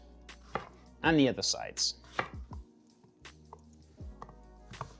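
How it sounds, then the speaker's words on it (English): A kitchen knife chops an apple on a cutting board in several crisp, close knocks, with a person talking briefly over the cutting. "So we're gonna slice this in half."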